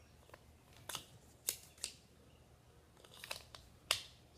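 Scissors being handled while making paper wands, several sharp snips and clicks in an irregular pattern, quiet and close in a still room.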